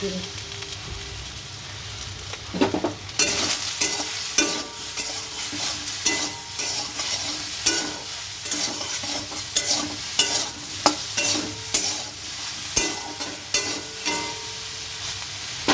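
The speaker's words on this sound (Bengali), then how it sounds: "নিম বেগুন করতে গেলে প্রথমে বেগুনটা ভেজে নিতে হবে" Brinjal (eggplant) frying in hot oil in a pan, with a continuous dense sizzle and repeated stirring scrapes and clatters that grow busier after the first few seconds. No talking.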